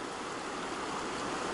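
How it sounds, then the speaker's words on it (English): The Williams Fork River in Colorado rushes steadily past, a broad, even wash of flowing water heard close and alone. "Not little, it's a pretty big river."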